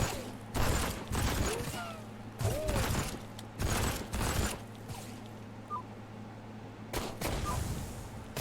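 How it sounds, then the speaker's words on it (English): Heavy gunfire rattles through the video game Headcount in several dense bursts of rapid shots separated by brief lulls, loud and close. "There's a lot of bullets coming at you."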